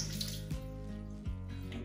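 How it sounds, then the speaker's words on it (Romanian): Warm water runs steadily during a beauty treatment, a soft continuous trickle with a couple of faint splashes, close and quiet, with no talking. "Se pune apă călduță."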